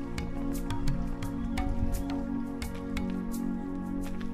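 Water runs steadily from an old village fountain at a road junction, a continuous splashing stream with bright drips and no voices.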